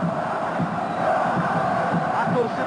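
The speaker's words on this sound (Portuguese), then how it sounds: "A torcida do Vasco começa a se assanhar. Agita as suas bandeiras. Grita, plenos pulmões." Vasco fans roar and shout in a packed football stadium at the 1989 Brazilian Championship final against São Paulo: a dense, steady wall of crowd noise with no breaks.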